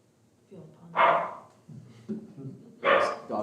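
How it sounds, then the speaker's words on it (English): A dog barks during a city council meeting in Lennox: two sharp, loud barks about two seconds apart, with softer vocal sounds and faint room noise between them. "Dog's got something to say"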